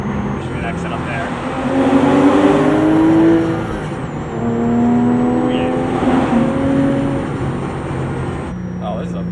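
A 1999–2004 Porsche 996 Carrera with a Fabspeed full exhaust system accelerating from inside the car, loud rising engine tones climbing through gears with a brief shift dip, and a man briefly exclaiming.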